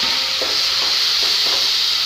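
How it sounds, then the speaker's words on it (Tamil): Small chopped tomatoes fry in a pan of quail gravy, a loud, dense, continuous sizzle close up with a few soft stirring strokes underneath, no talk. "அதுக்கடுத்து நெக்ஸ்ட்டு நம்ம தக்காளியை போட்டுப்போம்."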